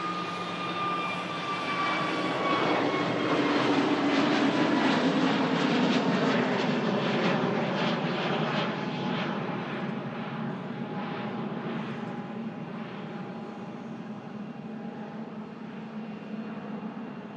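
A Pegasus airliner takes off and climbs out from Manchester Airport, its jet engine roar loud and broad at first, then slowly easing as it rises and moves away, with no talk over it.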